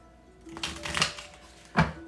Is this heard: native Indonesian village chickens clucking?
no